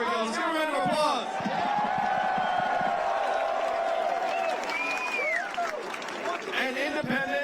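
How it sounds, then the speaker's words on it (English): A rally crowd in Los Angeles claps and cheers for a presidential candidate, a steady wash of applause with whoops and a few shouted voices rising over it throughout. "Let's give them a round of applause."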